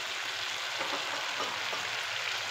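Schezwan veg fried rice being stir-fried and mixed in a hot pan, a continuous close hiss of sizzling throughout, with no talk.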